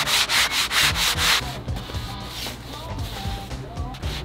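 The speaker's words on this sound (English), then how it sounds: "we are gonna give it a couple coats, sand it between" Sanding a window frame between clear coats: a run of quick, rhythmic back-and-forth scratchy strokes up close, followed by softer, irregular rubbing and shuffling.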